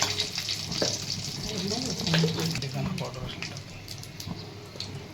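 Red chili powder, turmeric and coriander powder fry in hot oil for a tadka over yogurt, a close crackling sizzle with light stirring clatter and a voice talking over it.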